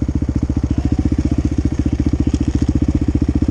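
KTM and Yamaha IT dirt bikes idling close by, a loud, steady rapid thumping engine pulse that runs without a break through the whole stretch.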